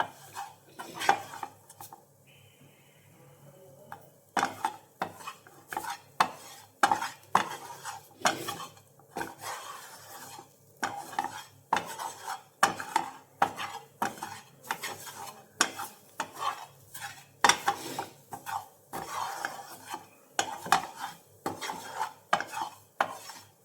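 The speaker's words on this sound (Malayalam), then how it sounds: "വീണ്ടും നന്നായിട്ടിളക്കുക." A spoon scrapes and clacks rhythmically against a pan as a papadam and egg snack mixture is stirred. The strokes are repeated and close, over a faint sizzle.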